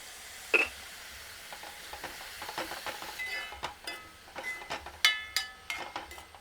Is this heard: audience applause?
no